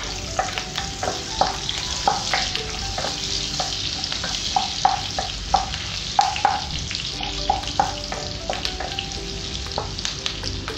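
Garlic sizzles in a pan beside browned meat while being stirred, a steady bright frying hiss broken by regular scraping clicks of the utensil, close and continuous.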